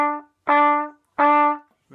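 Cornet or trumpet playing two short, separately tongued crotchet notes with a rest between, bright and close, with a brief softer note at the start and no talk.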